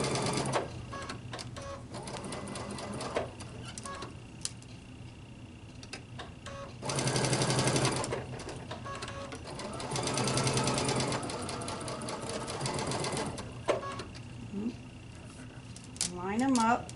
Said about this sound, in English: I have a stretch needle in my machine